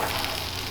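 Bratwurst sizzling on a fire brick rocket stove, a steady close hiss and crackle of fat frying with no break.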